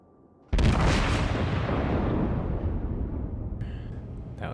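Battleship North Carolina firing its main guns in the naval game World of Warships, a single loud sudden boom followed by a long rolling, fading roar.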